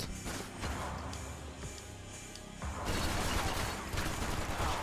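Gunfire in Max Payne 3 crackles in dense rapid bursts, with a quieter stretch of scattered shots before a louder, heavier barrage takes over near the end.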